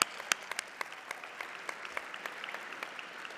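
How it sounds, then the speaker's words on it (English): An awards ceremony audience gives thin, scattered applause, with distinct individual claps at an uneven rhythm at moderate distance, fairly quiet. "You guys deserve a huge round of applause."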